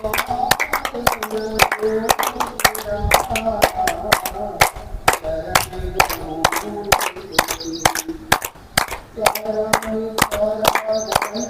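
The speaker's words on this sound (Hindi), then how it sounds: "ताली बजाएंगे 2-3 बार" A group at a village yoga session claps hands in quick bursts, giving many sharp, loud, overlapping claps across the whole stretch, with voices talking and chanting underneath.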